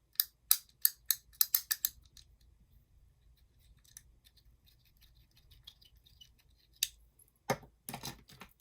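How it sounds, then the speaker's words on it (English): The buttons on a fidget stim toy give a quick series of crisp, close clicks, then a quiet stretch with faint ticks, then a few more sharp clicks and a scuff near the end, with no voice. "Some of the buttons click and some don't."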